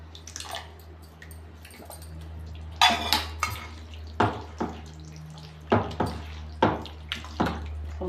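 Wet, sloppy clatters and scrapes come in irregular bursts as homemade yogurt is stirred into chicken in a pot for biryani, close by over a low steady hum, with no talking.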